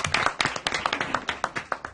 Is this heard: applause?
yes